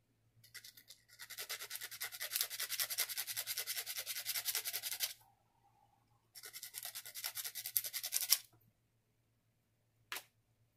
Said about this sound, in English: sand a little on the top, I'll sand a little on the bottom here. And I'll sand this one.